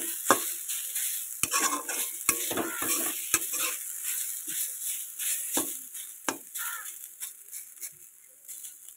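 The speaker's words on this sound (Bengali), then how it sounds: "দেখছো আমার আলুগুলো অলরেডি ভাজা হয়ে গেছে" Potatoes frying in a pan for aloo paratha, a spoon scraping and stirring in irregular bursts over a soft, continuous sizzle, close up and without speech.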